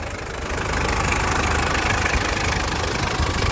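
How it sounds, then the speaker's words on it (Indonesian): A Mitsubishi Strada 2.8 GLX conventional diesel engine idles with a rough, knocking clatter, loud and close, steady after a brief rise at the start, with no voices. "Ini ciri khas suara mesin diesel yang konvensional"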